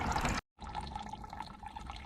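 Water running and trickling through a propane-fired camp water heater, a steady close liquid flow with splashy texture that cuts out briefly near the start and then resumes.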